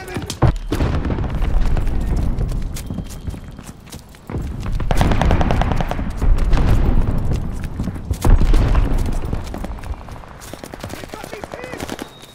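A grenade blast and sustained gunfire in a Call of Duty: Vanguard multiplayer match, loud and close, with repeated booms and rapid shots rolling over the whole stretch and game voice callouts mixed in.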